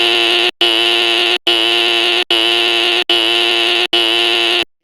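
A pulled fire alarm blares close and loud as six long, steady electronic buzzes separated by brief silent gaps, with no voices.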